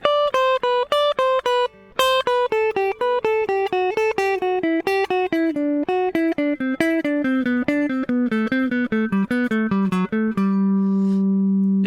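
Guitar runs a CAGED pattern in reverse on the way down, a steady stream of clean single notes descending in even rhythm, close and alone, ending on a sustained ringing chord.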